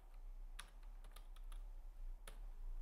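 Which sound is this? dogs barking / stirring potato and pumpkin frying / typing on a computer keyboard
typing on a computer keyboard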